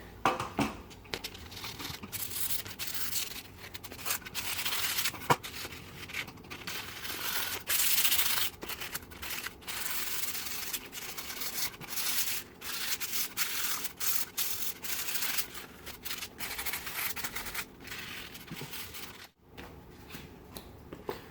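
Steel wool rubbed back and forth across a hand-painted wooden sign to distress it, giving a steady, close scratchy abrasion with short strokes and brief pauses, no talking.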